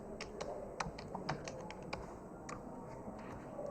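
Password typed on a computer keyboard, a quiet run of quick, irregular key clicks close by, with short pauses between bursts.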